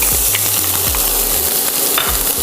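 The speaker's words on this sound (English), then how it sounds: "I'm adding a little vegetable oil, and we're gonna saute some onions" Onions sautéing in vegetable oil in a hot pot, a dense continuous sizzle, loud and close, with a few low tonal hums running underneath and no talking.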